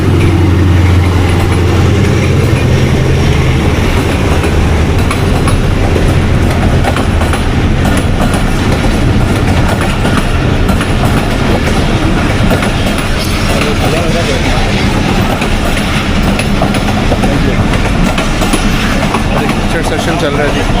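The Baba Express train rumbles loudly and continuously at close range, with a heavy low drone and rattling carriages that last throughout. Voices can be heard talking over the noise.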